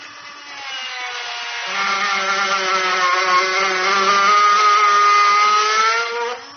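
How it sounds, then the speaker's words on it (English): A Dremel rotary tool cuts off a stud in the trunk area of a 2017 Lincoln MKX during a trailer hitch install, giving a loud, close, high-pitched whine that climbs in pitch and holds steady under load for several seconds. "So I'm going to use a Dremel tool today."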